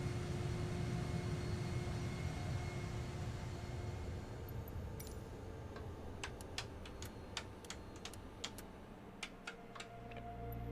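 A Tiger F-5 jet engine in Microsoft Flight Simulator winding down after fuel cutoff, a low steady drone fading away while faint cockpit ticking clicks in irregularly near the end.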